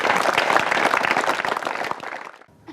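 A studio audience at a children's quiz show breaks into loud, dense applause for a contestant's answer, which fades over about two seconds to near silence.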